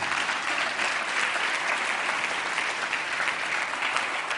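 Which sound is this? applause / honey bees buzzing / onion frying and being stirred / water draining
applause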